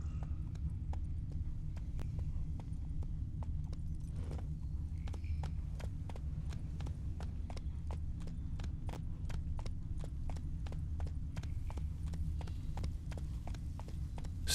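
Hooves of Roach, a horse in The Witcher 3, clip-clopping in a steady, rapid rhythm of sharp, evenly spaced hits over a low continuous rumble, with no talking.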